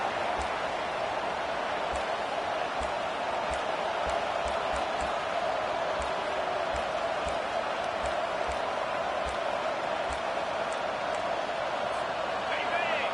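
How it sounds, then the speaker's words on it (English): Home crowd roaring in the NCAA 25 college football video game during a third-down defensive stand, a steady dense wall of cheering noise that runs the whole time with faint rhythmic thumps underneath. "Here comes this home crowd as the defense tries to get off the field on 3rd down."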